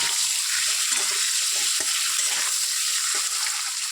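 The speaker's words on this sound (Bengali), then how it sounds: "এবার একটু নাড়াচাড়া দিয়ে নিই" A duck egg with salt and turmeric fries in hot oil in a wok and is stirred, giving a continuous close, bright sizzle with light scraping pushes of the spatula.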